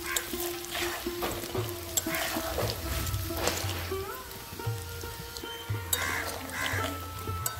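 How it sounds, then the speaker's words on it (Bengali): Batter-coated broccoli pakoras sizzle and crackle in hot oil in a pan, a steady close frying hiss with occasional stirring clinks and scrapes. "এরপর একটা একটা করে ব্রোকলি আমি তেলে ছেড়ে ভেজে নেব।"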